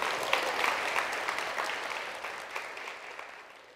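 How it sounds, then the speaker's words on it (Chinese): Audience applause fills a lecture hall, a crisp, dense patter of many hands that starts strong and slowly fades over a few seconds, with no voices heard. "来宾，请掌声鼓励。"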